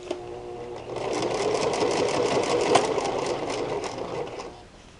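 A sewing machine back stitching a lightweight summer quilt runs in one close, loud, steady burst of rapid mechanical chatter for several seconds, then slows and stops.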